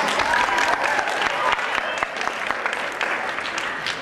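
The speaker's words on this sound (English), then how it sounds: "Give them a round of applause." Audience applause at a man pageant, a full crowd clapping steadily and fairly loud, with scattered cheers and voices mixed in.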